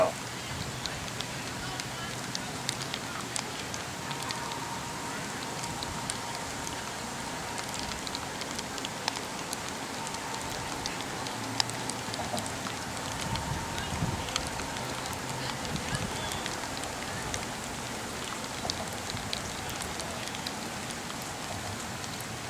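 Rain falls steadily outdoors during a kickball league game, a constant hiss with scattered droplet patters and some wind buffeting on the microphone, continuing throughout with faint voices in the background.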